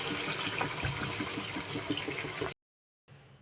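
Water gushes steadily into a pot of mango chicken as it cooks, a close, faint pouring and splashing that cuts off abruptly before a quieter tail.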